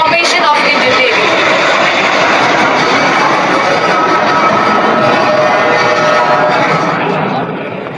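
Indian Navy aircraft of the Varuna formation fly past overhead at the Aero India 2025 inauguration in Bengaluru, a loud sustained engine roar that holds steady and then fades slightly at the end.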